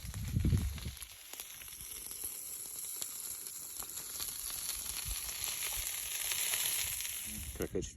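Bacon sizzles in hot grease over a campfire at a Colorado elk hunting camp, a steady close crackle with a few low thumps at the start.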